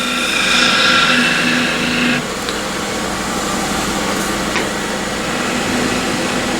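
Drilling a starter hole in a walnut blank spinning on a woodturning lathe, a steady loud mechanical whir and hum with a whining tone that drops off after about two seconds, then continuing rough grinding.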